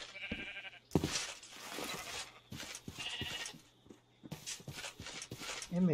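Sheep in Minecraft bleat in a few short, clipped game-sound bursts over a busy backdrop of footsteps and shuffling, with the calls spaced irregularly at moderate loudness.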